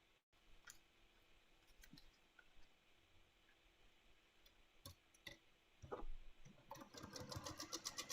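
A sewing machine stitches a quilt in a quiet room, with soft ticking and clicking that grows into a louder, rapid run of stitches near the end.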